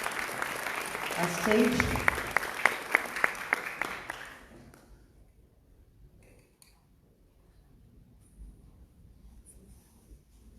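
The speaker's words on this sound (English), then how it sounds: "Let's give a big round of applause" Audience applause at the opening of the People's Action for Learning Network Conference 2019 in Kathmandu, Nepal, a dense burst of clapping that fades out after about four seconds into a quiet room, with a brief spoken phrase and faint clinks.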